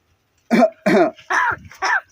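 A talking crow imitates a human cough, giving four short, rasping, cough-like bursts in quick succession, close and loud, against silence.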